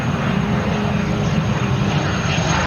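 Steady, loud drone of a Beechcraft King Air 350i turboprop's engines, a constant close whine and roar with a faint high tone that holds without change before cutting off abruptly at the end.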